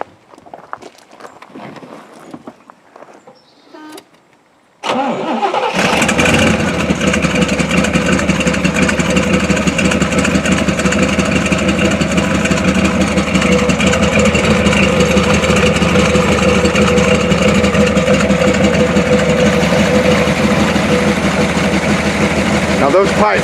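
A 1969 Corvette Stingray starts after a few quiet seconds and settles into a loud, steady idle that runs close and continuous to the end.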